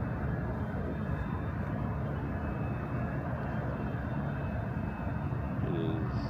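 Southwest jet in Colleen Barrett retro Canyon Blue livery on its takeoff roll at Honolulu, bound for Maui: a steady, broad engine roar holds at constant loudness throughout, with no talk.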